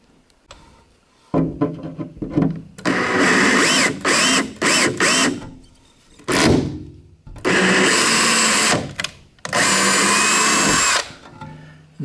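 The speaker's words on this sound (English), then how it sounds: "we just need to run a tap through that" A 6-32 tap driven through a drilled hole in a cabinet drawer, heard as several loud, close bursts of motorized whirring, each a second or two long, separated by short pauses, with no talk.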